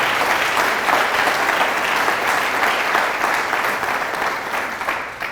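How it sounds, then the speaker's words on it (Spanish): A church congregation breaks into loud, dense, sustained applause that fills the room evenly and tapers slightly at the end. "Fuertes aplausos"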